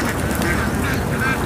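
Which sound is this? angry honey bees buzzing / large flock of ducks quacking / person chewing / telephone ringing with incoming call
large flock of ducks quacking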